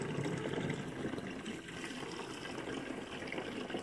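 Tap water runs steadily into a box being filled to clean a guinea pig bowl, a continuous close gushing rush that holds level throughout.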